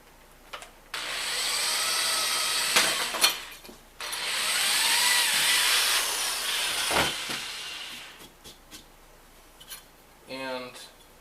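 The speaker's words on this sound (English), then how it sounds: "then you can go ahead and drill your hole in there" A power drill whirs in two sustained bursts into the wood of an antique trunk, loud and close, with short pauses and clicks between.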